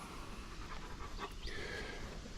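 A dog pants steadily close by at a tractor auction among an old tractor collection, its quick breaths continuous over a busy outdoor background hum, with no talking.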